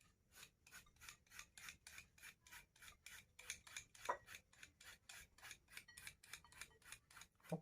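Young date palm shoot scraped by hand for Thai papaya salad, a steady close rhythm of about twenty rasping strokes, each a short coarse scrape, alone without talk.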